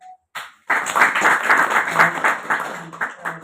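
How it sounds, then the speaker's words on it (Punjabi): Audience applause welcoming the chief guest at a weekly awareness seminar in Nawanshahr, starting after a brief pause and building into steady, full clapping that stays loud for about three seconds. "ਤੁਹਾਡੀ ਜ਼ੋਰਦਾਰ ਤਾੜੀਆਂ ਦੇ ਨਾਲ ਸਵਾਗਤ ਕਰਨ"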